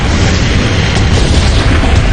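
A massive blast on the Piper Alpha oil platform in the North Sea comes as a loud, continuous, deep roar that fills the whole moment without letup.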